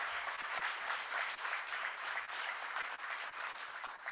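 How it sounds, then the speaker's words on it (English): At a congressional panel summit, a crowd claps for the panelists. The applause is steady and moderately distant, with many hands blending into an even wash that lasts the whole time. "And so give them a round of applause"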